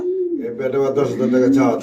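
Mondi pigeons, a big-sized pair, coo in steady low rolling calls close by, with someone talking over them.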